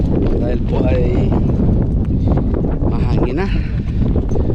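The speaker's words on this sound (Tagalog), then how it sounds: "mahangin na." Strong seaside wind at Punta Galera buffets the microphone in a loud, continuous roar with gusty rustling, while a voice talks faintly underneath.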